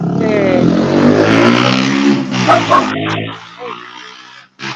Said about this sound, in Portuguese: Passou uma moto aqui.